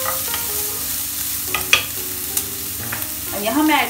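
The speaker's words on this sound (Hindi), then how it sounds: "हमें प्याज को बहुत ज्यादा ब्राउन नहीं करना है," Onion lightly frying in a pan, a close steady sizzle with a few spatula scrapes and clicks, and a brief tonal squeal near the end, no voices.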